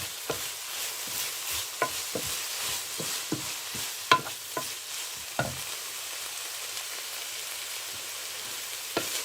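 Vegetable spring roll filling with ginger stir-frying in a pan: steady loud sizzle throughout, broken by scattered sharp scrapes and clacks of stirring, with no voices.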